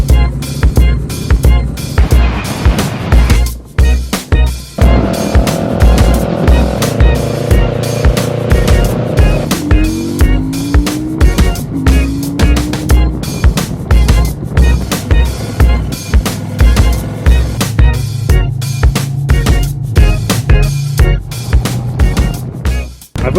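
A motorcycle is ridden with the recorder on the helmet, giving a loud, continuous engine drone with rapid pulsing, shifting pitch through gear changes and heavy wind buffeting close in.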